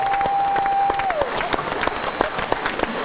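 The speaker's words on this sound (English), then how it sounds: "We are clapping for you" Applause from a crowd at Telemiracle 45, a Saskatchewan telethon, dense clapping that runs steadily through the stretch with a few louder individual claps, while a sustained tone sounds briefly at the start.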